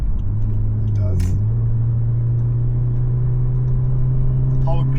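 A Toyota 86 with a boxer engine pulling in comfort mode: a steady low droning hum from inside the car that rises slightly in pitch and then holds evenly.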